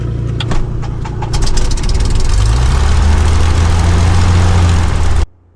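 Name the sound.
Cessna 172 aircraft engine starting and idling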